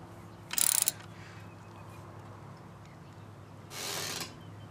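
Frame slider bolts being tightened on a 2019 Yamaha MT-09, two short bursts of ratcheting wrench clicks, the first quick and sharp, the second a longer smoother rasp, against a quiet background hum.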